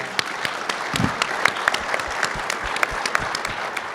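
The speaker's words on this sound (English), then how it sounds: "let's clap for Mady" Crowd at an agriculture association's annual general meeting applauding for Mady, a sustained round of many hands with sharp individual claps popping out near the front.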